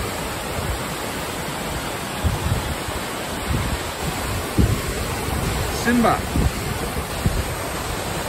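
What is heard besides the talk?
Materuni waterfalls in Tanzania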